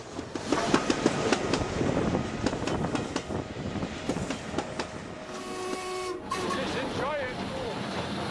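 A train rumbles along the rails in the Scottish Highlands, hauling 210 tons, with rhythmic clatter, continuous and fairly loud, a voice talking over it and a brief whistle-like tone near the end.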